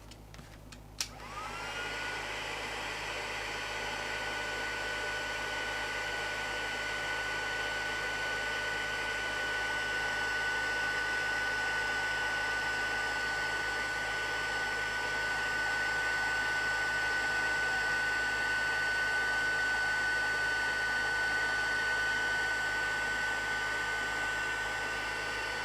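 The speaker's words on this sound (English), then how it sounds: "Let's do the heat embossing of this one then." A heat embossing tool blows hot air for a long stretch: after a click it switches on, then holds a steady, close whooshing roar with a faint constant whine above it.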